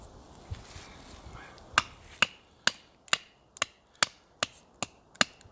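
A Mora Garberg carbon steel knife bites into a gnarly piece of timber with about ten sharp, evenly spaced chopping knocks, close and crisp over a quiet background.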